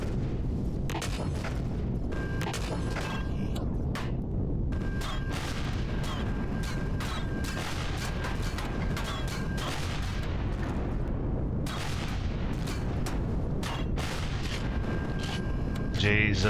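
Weapon fire and explosions from the space video game Empyrion, as a player's ship attacks a Zirax turret base: repeated booming shots and blasts in rapid irregular bursts, loud and close, with occasional talk over them.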